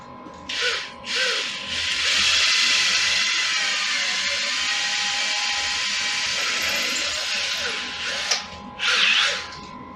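An electric drill without hammer action bores into a brick wall with a loud, hissy grinding whir for several seconds, bracketed by short bursts at start and end.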